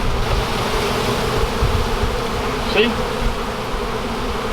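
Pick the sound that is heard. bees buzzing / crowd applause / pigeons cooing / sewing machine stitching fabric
bees buzzing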